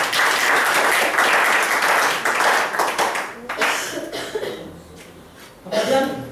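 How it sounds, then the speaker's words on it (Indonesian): A seminar audience at a Prudential motivational event claps loudly, then the applause thins and fades midway with a chuckle and a cough before a fresh short burst of clapping near the end. "Tepuk tangan untuk prudensial."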